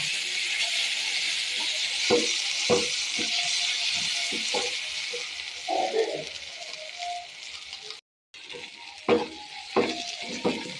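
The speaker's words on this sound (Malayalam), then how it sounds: "അതിൻ്റെ പച്ച ടേസ്റ്റ് മാറുന്നവരെ ഒന്ന് ഇട്ട് ഇളക്കി കൊടുക്കാം" Masala sizzles and fries in a pan for a Kerala crab roast, giving a steady loud hiss while a spoon stirs it with repeated scraping knocks. Everything is close by and no one speaks.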